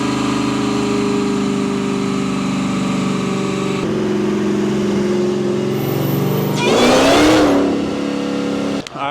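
Supercharged Jeep SRT8 with a Whipple blower and nitrous, its engine held at a loud, steady high rev with a whining harmonic drone, then a brief surge and swell before cutting off abruptly near the end.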